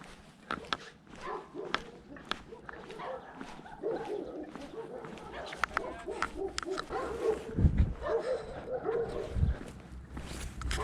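Large dogs bark repeatedly in scattered bursts, some near and some farther off, with footsteps and faint voices mixed in.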